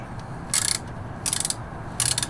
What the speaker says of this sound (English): It's a T40 Torx. So we'll go ahead and loosen that up.